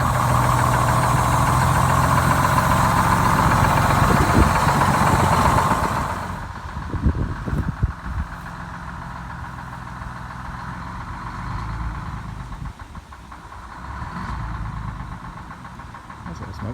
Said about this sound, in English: It's been idling for about 20 minutes.